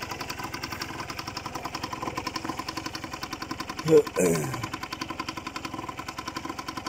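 A dirt bike engine idles with a steady, fast putter, joined briefly by a short louder burst partway through before settling back to idle.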